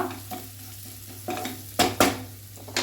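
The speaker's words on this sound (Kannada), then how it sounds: "ಈಗ ನಾನು ಇದಕ್ಕೆ ಒಂದು ಅರ್ಧ ಟೇಬಲ್ ಸ್ಪೂನು ಚಿಲ್ಲಿ ಫ್ಲೇಕ್ಸ್ ಹಾಕ್ತೇನೆ." Chili flakes frying in a pan with oil, a low constant sizzle broken by a few louder stirring scrapes of a utensil against the pan, close up and without speech.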